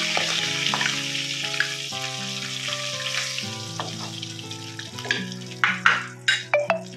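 Ingredients for a Telugu okra, egg and dried fish pulusu sizzle steadily as they fry in a pan, with a backing music track, and a few sharp clinks of a utensil against the pan near the end.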